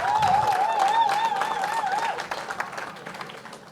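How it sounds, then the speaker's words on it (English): A crowd applauds at an outdoor mural unveiling, with steady clapping that fades over a few seconds while a whistle-like tone and some cheering rise above it. "please give them a round of applause"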